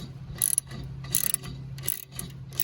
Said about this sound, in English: So we'll loosen this bolt up, take it out.